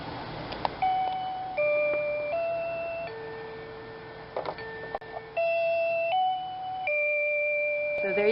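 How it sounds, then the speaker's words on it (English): A wireless RV doorbell chimes a sequence of clear electronic tones, stepping up and down in pitch across several notes, fairly quiet against a faint background hiss. "Wireless doorbell."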